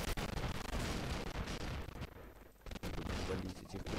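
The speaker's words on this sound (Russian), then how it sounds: "будем с дробовика валить этих пришельцев" Shotgun blasts against aliens in a swamp-hunting video game, several loud booming shots with brief gaps between them, close and dominant.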